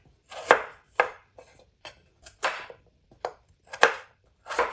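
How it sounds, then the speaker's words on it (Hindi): Potatoes being chopped into small pieces on a cutting board for karahi aloo gobi sabzi give about a dozen crisp, close knife strikes in an uneven rhythm, some paired, with quiet gaps between them. "आलू है तो देखिए, इनको आपने इस तरह काटना है"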